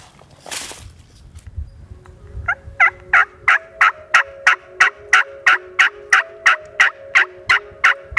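Wild turkeys gobbling in a Wisconsin field, a long run of about fifteen loud, evenly spaced gobbles following a brief rustle, with no voices.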